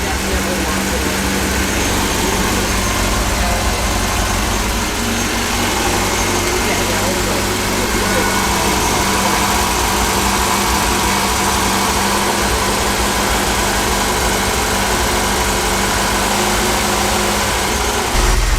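A 1977 MGB Roadster fitted with reconditioned SU carburetors idles steadily nearby, a continuous low even engine note with slight vibration, while people talk over it.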